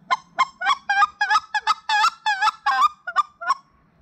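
A hand-held hunting call gives a string of about a dozen sharp, clear clucks in an uneven rhythm, loud and close with no voice over them.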